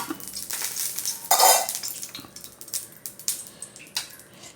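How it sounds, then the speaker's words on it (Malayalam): Metal utensil scraping and swirling around a pan, a few sharp clinks and soft sizzling, close up with no talking. "നെയ്യ് എല്ലാവരും കൂടെ ചട്ടിയുടെ എല്ലാ ഭാഗത്തും ഒന്ന് ആക്കി കൊടുക്കണം"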